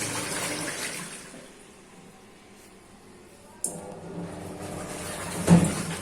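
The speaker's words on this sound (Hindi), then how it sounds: "साबुन का पानी है उसको ये ड्रेन कर देगी" Water drains from an automatic washing machine as soapy wash water is pumped out, a steady low rushing and gurgling with a sharp knock partway through, heard alone at moderate level.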